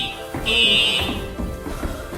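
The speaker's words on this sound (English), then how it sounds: "the fire alarm went off at 4 a.m. for 30 minutes" A hotel fire alarm sounds in short, loud electronic bursts, a harsh tone that pulses on and off against room noise.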